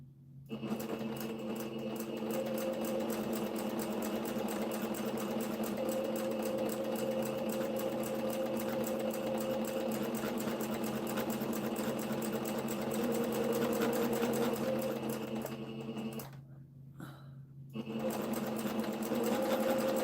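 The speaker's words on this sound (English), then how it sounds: "Almost done sewing." Sewing machine stitching a service dog vest, a steady close mechanical whir running almost without break for twenty seconds, with one brief pause near the end.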